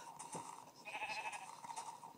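Sheep bleat in a Minecraft-style underground survival game, a few faint, soft cries that rise and fall over quiet background, ending in a brief louder thump.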